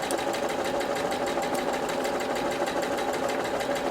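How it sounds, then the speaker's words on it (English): Sewing machine running a straight stitch down a fabric side seam of a drawstring bag, a loud, fast, even mechanical chatter that continues without pause and with no talk. "I'm going to sew all the way down, removing the pins as I go"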